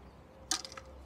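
An arrow, 29 inches long, loosed from a traditional Assyrian Babylon-style bow with a three-finger draw, a single sharp snap followed by a few quick fading rattles, close and alone.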